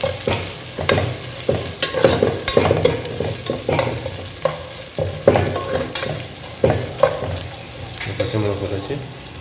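Green chillies and onions stir-frying in a pan for mutton biryani, with a steady oily sizzle broken by repeated scraping and stirring strokes of a spoon, close and fairly loud, with no talking.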